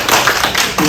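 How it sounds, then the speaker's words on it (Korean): A seminar audience claps briefly and steadily, a dense close patter of hands filling the short moment without pause. "우리 박수 한번 해주십시오"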